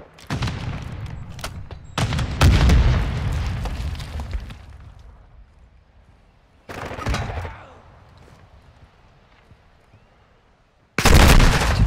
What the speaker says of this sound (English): set the charge on the target and detonate it